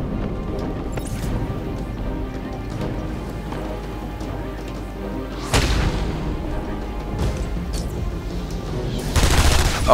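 Video game gunfire in Batman: Arkham Asylum: a steady rattle of rapid shots under ambient game sound, with louder sharp bursts crashing in midway and again at the end.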